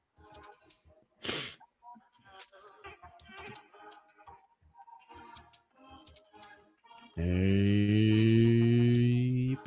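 One sharp, close sneeze bursts out early amid faint clicks and tapping in a quiet room, and a loud steady electronic tone later takes over.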